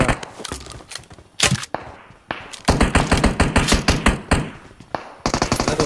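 Double-barrel shotgun fire in a video game: a dense string of sharp, loud blasts comes in quick bursts, separated by short gaps, with no voices over it.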